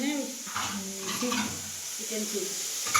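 Chicken cooks in a home kitchen for dinner, a steady sizzle with stirring and some clinks from a pan, heard close under faint background voices.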